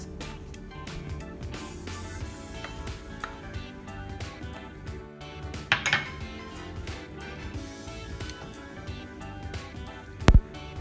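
Melted butter and egg yolks are stirred together in a bowl for Filipino pan de pula, giving soft scraping with scattered light clinks of utensil against bowl. It is quiet and close, with one sharper knock near the end.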